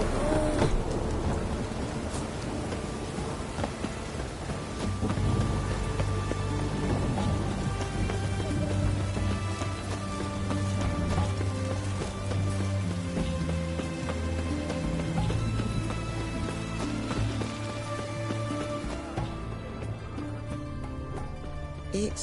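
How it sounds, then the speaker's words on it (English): Steady rain in the fantasy video game The Witcher 3, a constant hiss of falling drops beneath a layered game soundtrack with sustained tones, continuing evenly throughout. "It's raining"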